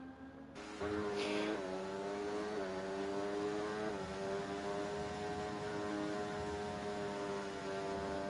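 A Formula 1 car in a racing video game, a Sauber, rolls into the pit lane at the Chinese Grand Prix, its engine a steady, even drone with slight pitch dips, loud and continuous with no voices.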